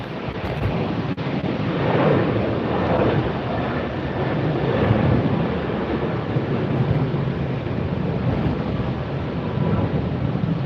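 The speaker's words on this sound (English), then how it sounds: "A Cessna 441 Conquest 2." Cessna 441 Conquest II turboprop passing near Tampa airport on a very windy day, a broad steady engine roar mixed with heavy wind buffeting on the microphone, sustained throughout without speech.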